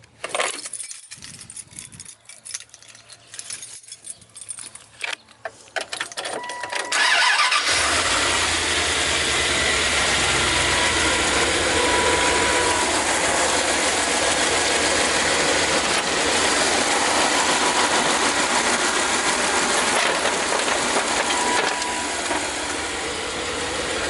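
Car engine after a tune-up with fluid flushes and a leaking valve cover: several seconds of clicking and cranking, then it catches and settles into a steady, loud, close idle that runs on without talk.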